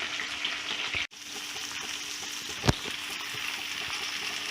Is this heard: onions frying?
yes